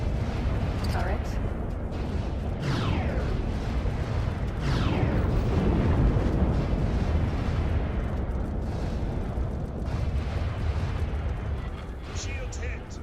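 Turret fire hits a ship's shield in the modded space game X4, a loud, continuous barrage of booming impacts and sweeping whooshes that rumble on without a break.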